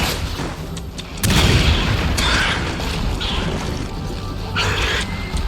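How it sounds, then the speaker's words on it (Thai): A loud, booming explosion in Resident Evil 6 bursts in after a rumbling stretch, followed by more crashes, thuds and gunfire-like bangs in a busy game battle. "เกิดระเบิดไปอีกรอบ"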